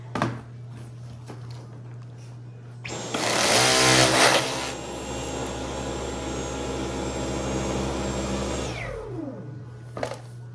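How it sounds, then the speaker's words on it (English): A Dyson V11 cordless vacuum cleaner in eco mode starts with a rising whine, runs as a steady high-pitched motor drone for several seconds, then winds down with a falling pitch. "now we're gonna go ahead with a Dyson V11 in eco mode"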